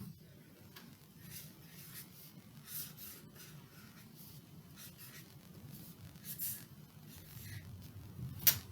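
Pen or marker writing a short word by hand on a board during a phonics game, a soft continuous scratching with brief strokes and a small tap near the end, faint and alone.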